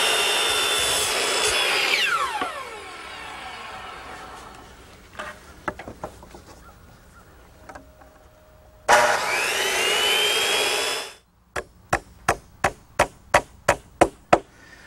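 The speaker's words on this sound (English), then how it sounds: "using my circular saw and my jigsaw, I'm able to notch these pieces of 5/4 by 6 decking" Circular saw and jigsaw notching 5/4 by 6 wooden decking boards: two long, loud whining saw runs with the blade spinning down, then a steady rapid series of about ten sharp jigsaw strokes, with no talking.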